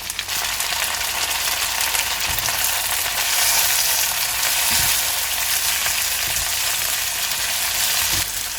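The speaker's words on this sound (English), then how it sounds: "Now we will cook the vegetables until the pineapples become bit soft." Red and green capsicum with pineapple pieces sizzle in a pan for veg pineapple fried rice, a loud, continuous frying hiss with occasional soft knocks of stirring; no speech.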